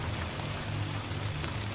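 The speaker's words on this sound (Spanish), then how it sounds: "la lluvia goteando en la oscuridad" Rain dripping steadily in a dark forest at night, a dense, continuous patter with no pauses, close and even in loudness throughout.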